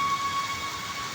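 Rain falls steadily in a brief, even hiss of drops with a faint tonal hum running through it, no voices.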